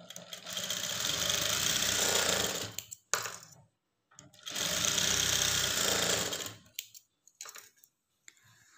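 A sewing machine stitches a lined blouse in two long, steady whirring runs, separated by a short pause and a few clicks, then stops with light handling sounds.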